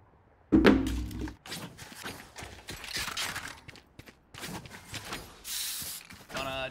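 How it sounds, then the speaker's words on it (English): A turret is deployed in the Valorant video game: a sharp mechanical thunk followed by clicking, whirring deployment noises and busy in-game action layered over it. "Turret out."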